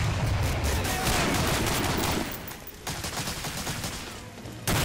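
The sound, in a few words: gunfire in video game Medal of Honor Breakthrough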